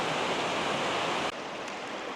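Water rushes steadily down a natural rock slide on an alpine hiking trail, a continuous broad hiss of flowing water heard up close, briefly dipping in level partway through.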